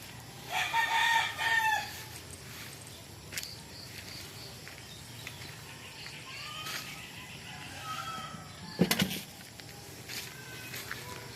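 Chickens cluck and a rooster crows near the start on a farm, followed by scattered softer clucks and a sharp bird call later, with faint background voices.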